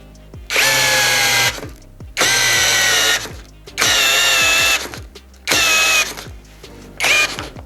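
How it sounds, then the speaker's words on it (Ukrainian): A WORCRAFT CHD-S20LiBAB cordless brushless drill drills in five separate bursts, each about a second long with short pauses between, loud and close with a high whining motor. "Давайте свердління."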